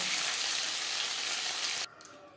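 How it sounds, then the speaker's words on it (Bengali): Small chela fish fry in hot oil in a pan, giving a loud, steady hissing sizzle up close that cuts off abruptly near the end, leaving faint clinks. "পরের মাছ একইভাবে ভেজে নেব।"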